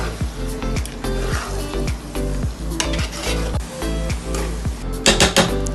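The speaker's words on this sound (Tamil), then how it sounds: "போட்டு நல்லா மிக்ஸ் பண்ணுறேன்" Chicken being stirred into a sizzling biryani masala in a pot, with repeated scraping, squishing strokes over steady frying hiss, close and fairly loud.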